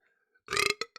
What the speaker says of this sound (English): God, that was a burp.